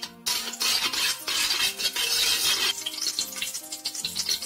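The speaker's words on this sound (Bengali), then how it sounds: "আমি এখন এই তেলের মধ্যে একটু হলুদ গুঁড়ো দিয়ে দিচ্ছি।" Turmeric powder sizzling in hot oil as boiled eggs are fried, a sudden bright burst of hissing and spattering that stays loud with crackling bursts, and faint music beneath.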